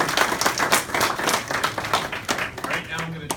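An audience claps at a Sycamore Township zoning meeting, a dense patter of hands in a hall that continues while a person speaks over it.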